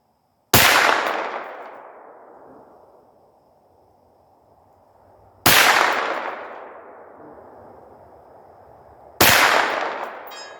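A 9mm AR rifle fires three sharp, loud shots several seconds apart at a 200-yard range, each crack followed by a long ringing decay with no talking.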